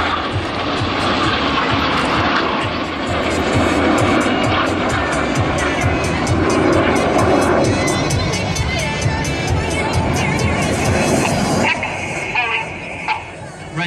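Red Arrows synchro pair jets roar past upside down at an air display, a loud sustained jet rush that swells and fades, with a crowd and a commentator talking over it.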